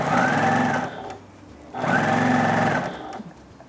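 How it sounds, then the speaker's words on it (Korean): Sewing machine fitted with a ruffler foot gathering cotton fabric for a baby's bloomers, two close, steady bursts of fast whirring stitching separated by a short pause, with no talk. "주름 노루발을 이용해서 주름을 잡아주시는데요"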